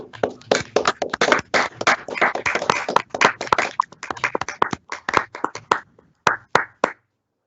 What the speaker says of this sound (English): giving a round of applause for our 2021 Dwight O. Ryan Student Achievement Award recipients